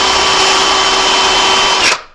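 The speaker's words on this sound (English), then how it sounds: "My fingers are out of the way when I'm drilling this." A power drill boring into a carved model foot for a Final Fantasy V figure, a loud steady whine held for nearly two seconds before cutting off and spinning down.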